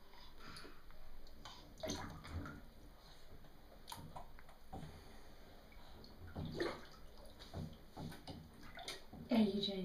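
Water sloshes and splashes softly as a baby plays in a large bathtub, with irregular faint splashes under an adult's gentle talking.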